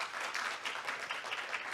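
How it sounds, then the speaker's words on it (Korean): Audience applause at the Etoday ESG Forum 2021 after a speaker's session: a brief, even patter of many hands clapping, faint and distant, with no talk over it. "모두 박수 부탁드립니다."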